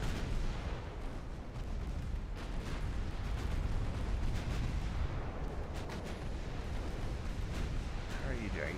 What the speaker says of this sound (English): Everybody really wants to shoot these battleships, don't they?